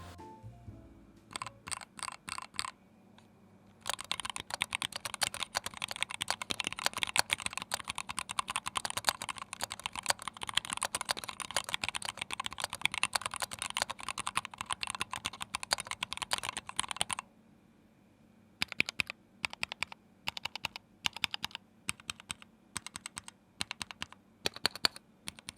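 Steady typing on a Press Play Voyager Lightyear Edition aluminium keyboard: a dense, fast run of slightly muted keystrokes, with shorter bursts and separate key presses before and after, close and with no talking.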